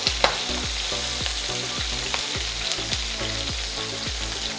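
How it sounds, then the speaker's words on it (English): Prawns sizzle and crackle steadily in hot oil, close by, with faint periodic clinks or stirring over the frying. "we need to fry the prawn one side till it is brown"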